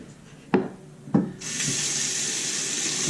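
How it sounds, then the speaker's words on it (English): Two sharp knocks come first, then a tap turns on and water runs steadily into a sink to rinse a straight razor, a close and constant gush. "gonna rinse the razor."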